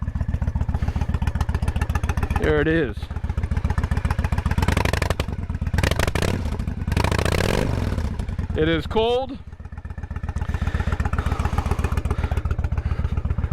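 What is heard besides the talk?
1998 Honda Shadow motorcycle exhaust running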